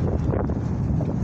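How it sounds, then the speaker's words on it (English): Wind buffets the microphone outdoors near passing cars with a continuous low rumble and rushing noise throughout the short stretch. "I don't know if you can hear all the cars and the wind"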